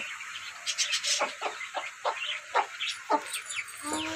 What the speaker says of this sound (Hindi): तो हमारे चूजे ही सभी खा रहे हैं जी।